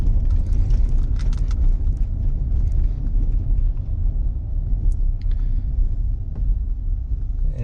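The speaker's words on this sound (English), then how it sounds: "as soon as I touch the gas pedal, it starts moving though" Ford F150 pickup accelerating in eco mode, a steady low engine rumble that keeps up its drone without any sharp surge, mixed with wind and road noise.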